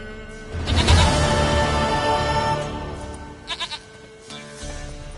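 A goat in The Witcher 3: Wild Hunt gives one long, loud, wavering bleat near at hand, followed by a few short, quieter bleats.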